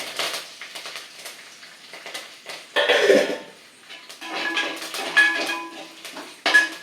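Fresh curry leaves hit a hot pan for puffed rice upma, giving a few short crackling bursts and spits between quieter moments, close and moderately loud.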